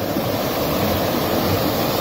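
A cold river flows in a steady, full rush near a cave bivouac at Combrières, its water loud and close with no pauses and no talking.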